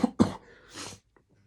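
A man coughs twice in quick succession, close and fairly loud, followed by a softer raspy throat-clearing exhale and a few faint clicks, with no talking.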